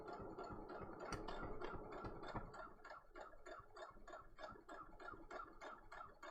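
A sewing machine stitches a fabric face mask with a fast, steady mechanical clatter of rapid needle strokes, running continuously close by without any talking.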